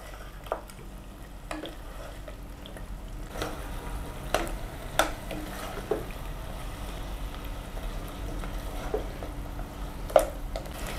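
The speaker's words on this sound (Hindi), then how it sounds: "इसके साथ मटन को थोड़ा फ्राई करेंगे ताकि अदरक और लहसुन का कच्चापन दूर हो जाए" Mutton frying in a pan with ginger and garlic paste: a soft, steady sizzle with scattered sharp clinks and scrapes of a spoon stirring, fairly quiet and close, with no talking.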